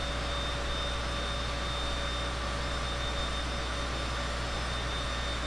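A Cessna 172 light airplane engine in Microsoft Flight Simulator drones steadily and evenly throughout, a loud continuous hum with no break and no voices.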